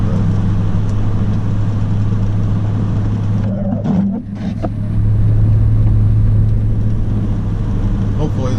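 Engine of a heavy Toyota Tundra four-wheel drive truck climbing a hill in sleet, freezing rain and snow, a steady low drone heard from inside the cab with a brief dip midway, then resuming.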